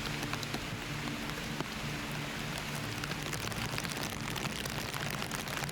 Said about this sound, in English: Rain finally chilled out.